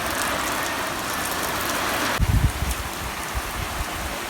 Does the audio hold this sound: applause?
no